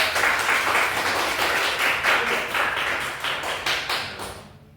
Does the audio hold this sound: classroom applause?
yes